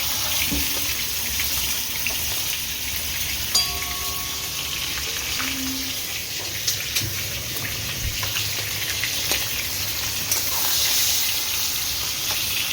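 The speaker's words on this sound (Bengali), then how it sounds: "মাছের বেগুনটা ভাজছি।" Eggplant pieces frying in oil in a pan, giving a soft, steady sizzle close by with a few light clinks and taps.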